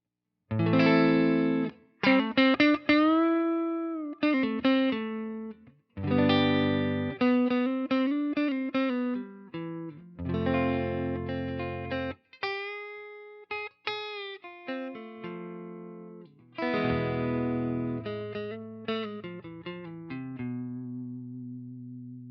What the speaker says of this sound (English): some clean tones from the P90 on the Yamaha